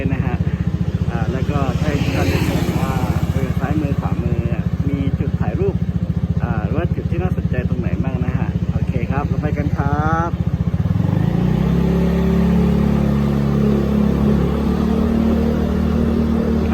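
A car drives at night through Phuket's old town, its engine a steady loud hum that drops lower in pitch partway through, with someone talking continuously over it.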